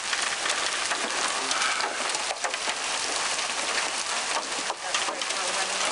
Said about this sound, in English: There's some big old hail falling now.